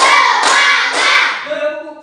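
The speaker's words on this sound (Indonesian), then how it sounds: "Tepuk semangat dulu." Children clap together in a classroom clapping game, a few dense bursts of group clapping up close, trailing into brief chatter and shouting voices at the end.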